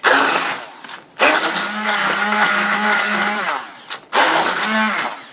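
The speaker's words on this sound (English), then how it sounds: "I'm just going to use my stick blender" A handheld stick blender whirs loudly with a high motor whine, blending low-carb faux mashed potatoes in two long bursts separated by brief stops, close up.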